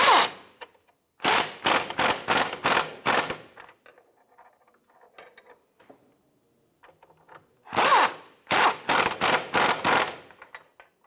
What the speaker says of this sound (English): Tighten down the two rear bolts here.